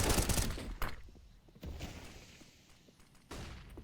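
Bursts of rapid gunfire ring out in Counter-Strike on the Inferno map during a competitive esports match, with loud clusters of shots, quieter stretches and fresh volleys.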